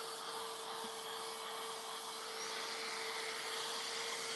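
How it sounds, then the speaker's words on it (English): A Fantic vacuum cleaner runs steadily and loudly throughout, a constant motor whine with a strong steady tone and broadband airflow roar, no talking. "So I think I'm going to turn on the Fantic vac."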